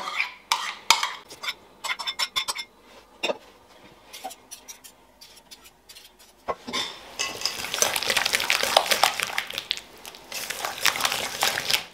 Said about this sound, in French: Dans un premier temps on va déjà fouetter le fromage blanc et le fromage ensemble.